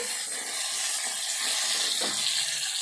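Green chilies fry in a pan, giving a continuous bright hiss and sizzle that stays fairly even and soft throughout, with no one talking.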